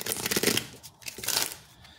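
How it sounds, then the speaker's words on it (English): A deck of tarot cards is shuffled in two quick bursts of riffling and sliding, close and fairly quiet, with a short pause between them and no talk. "I have to shuffle these again, I think, because like seven cards wanted to come out there."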